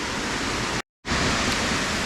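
A waterfall, Bar Changay Falls near Gangtok in East Sikkim, roars in a loud, unbroken rush that cuts out for a moment before returning.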